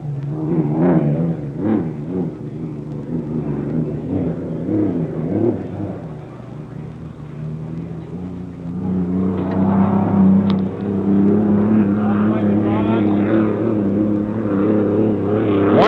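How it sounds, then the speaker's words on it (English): An unlimited hydroplane race boat, Mariner 2, roars through a time trial lap at the 1964 Seafair on the water in Seattle. Its engine holds a loud, continuous drone that wavers in pitch and swells louder partway through. "Gardner on lap 3 with Mariner 2"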